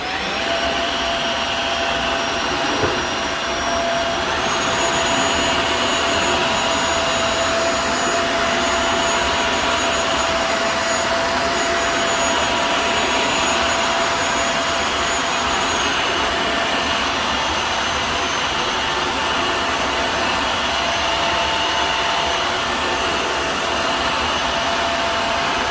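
A Dreametech H11 Max cordless wet dry vacuum runs in auto mode over a yogurt spill, a steady loud whirring motor with a high whine that shifts pitch slightly partway through, heard alone.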